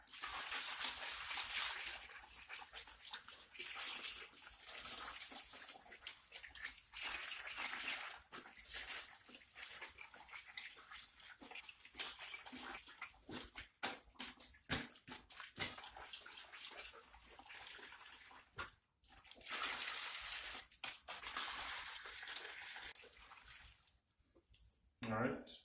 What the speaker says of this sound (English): we're going to vigorously shake the bottle well prior to its use